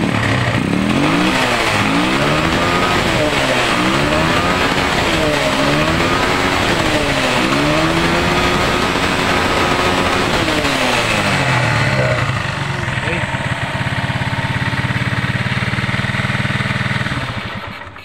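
A Rusi TC125 motorcycle engine fitted with a 4-pin Lihua CDI revs up and down repeatedly in loud, close, rhythmic surges, then drops back to a steady idle.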